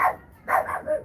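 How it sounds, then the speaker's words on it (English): A neighbor's dog barks outdoors at night, giving two moderately loud bark bursts with a short pause between them and no talking. "I think it's the neighbor dog. Every night she comes out here to bark."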